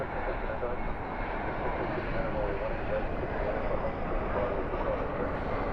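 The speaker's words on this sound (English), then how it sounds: "We do have a departure. Looks like an E175 there." An Embraer E175 airliner rolls down runway 18 left at night at DFW airport as a steady, broadband jet roar that holds constant throughout, heard from a distance.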